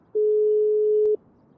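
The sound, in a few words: phone call ringing out in GTA RP video game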